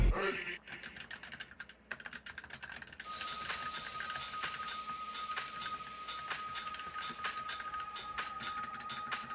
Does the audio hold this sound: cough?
no